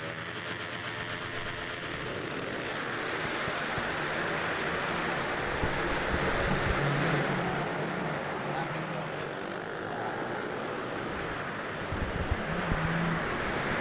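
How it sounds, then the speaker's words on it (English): Pit bike engines in a stock mod no-clutch class race at an indoor track, a continuous blended drone of several small motors rising and falling through the whole stretch, with a commentator talking over it. "All right, this final race is underway here, race 27. Pit bike stock mod, no clutch."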